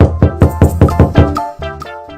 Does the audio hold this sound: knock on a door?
yes